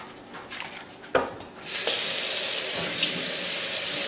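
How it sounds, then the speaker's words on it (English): Tap water runs into a kitchen sink while candy apples are being made, a soft trickle at first that swells into a steady, loud, close rush of water for the last two seconds. "You just put some more water in the sink and it'll dissolve."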